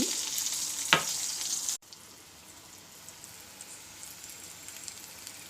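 Eggplant pieces frying in a pan with turmeric, giving a steady broadband sizzle that is louder for the first couple of seconds and then drops to a quieter, even crackle, with no voices.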